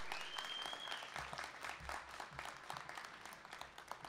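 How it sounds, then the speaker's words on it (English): Graduates at a 2018 career and technical education commencement ceremony applaud their faculty. The sustained clapping from a large crowd sounds somewhat distant in a big hall, with a brief whistle rising near the start and low rumbling underneath. "You can say thank you or you can applaud."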